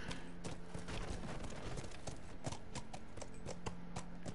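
Horse hooves clip-clop steadily in The Last of Us, a quick, even rhythm of soft close hoofbeats under a low background hum, with no voices.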